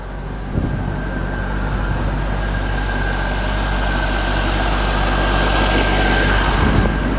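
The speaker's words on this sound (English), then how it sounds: "It's quiet. It's got the stock exhaust." A 1998 Chevrolet Corvette Roadster with stock exhaust and chrome tips idles steadily, a smooth, quiet low rumble held evenly from start to finish with no revving and no voices.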